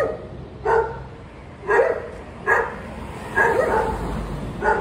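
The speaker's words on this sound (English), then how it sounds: "this rather beautiful Chinese temple here with some noisy dogs" A dog barks five or six times at irregular intervals, moderately distant, over a low steady background noise, outside a Chinese temple.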